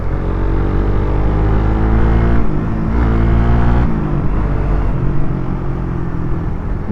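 A Suzuki Raider 150 FI motorcycle pulls hard under acceleration, its engine a loud, steady rumble with harmonic tones that rise, dip at a gear change, and climb again close by.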